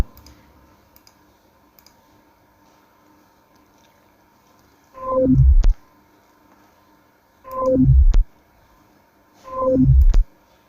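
A computer mouse clicks during a word-processor formatting lesson, three distinct, close and crisp click bursts spaced a couple of seconds apart against a quiet background, with no one speaking.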